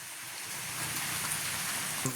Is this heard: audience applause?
no